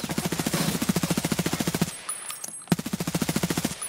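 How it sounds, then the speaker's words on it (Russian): Automatic rifle fire in Escape from Tarkov: two long, evenly spaced bursts of rapid shots, loud and close, separated by a short pause, with no talk over them. "Вот я стреляю, показываю, где они."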